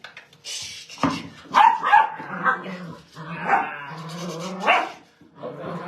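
A dog at a training session with a new toy gives a close series of sharp yips, barks and whimpers in uneven bursts, with no clear speech.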